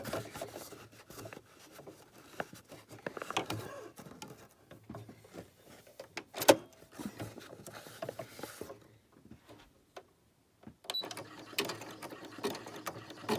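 Sewing machine zigzag or satin stitching around an appliqué on a small notebook holder, an uneven series of soft mechanical clicks and ticks with short stops and restarts, one sharper knock midway.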